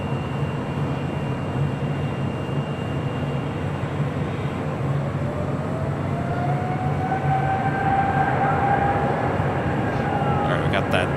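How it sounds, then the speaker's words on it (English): A China Southern Cargo Boeing 777 freighter rolls down runway 25 left at LAX for takeoff, its engines a loud continuous roar with a rising whine building over the seconds. "That 777 freighter with China Southern Cargo heading to Guangzhou, now rolling down 25 left"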